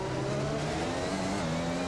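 An overheating, underpowered Honda Formula 1 engine in F1 2021 at the Canadian Grand Prix holds a steady high drone with layered tones, heard alone and fairly loud.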